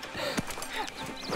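Horse from the video game Red Dead Redemption 2, with soft hoof clops and a brief snort amid busy game ambience, fairly faint and under a murmur of background sound.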